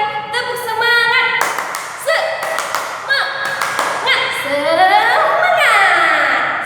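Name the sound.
class doing a rhythmic 'tepuk semangat' clapping chant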